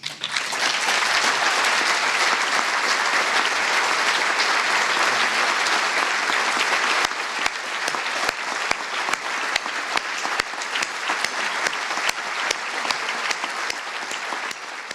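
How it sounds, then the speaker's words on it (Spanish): Audience applause at a talk, a loud, dense roar of clapping that later thins into more distinct individual claps, continuing steadily throughout without speech. "un aplauso"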